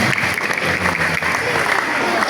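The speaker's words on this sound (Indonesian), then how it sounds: "Tepuk tangan untuk peserta pada Ramadan." Loud, dense applause from a crowd of schoolchildren at a Ramadan boarding program, steady and continuous throughout, close and filling the room.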